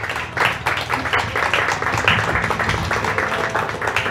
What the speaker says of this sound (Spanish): Un aplauso, aplauso para ella